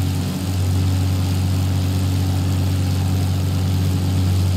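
The propeller engine of a Russian I-5 fighter in World of Warplanes drones loudly and steadily, a continuous low hum that runs the whole time with no talking.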